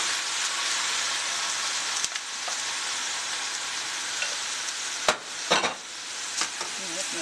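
Meat and softened vegetables sizzle and fry in a cooking pot while being stirred, a steady close crackle with a few spoon scrapes and knocks toward the end.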